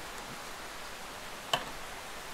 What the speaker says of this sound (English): I'm kind of talking loud because of this rain.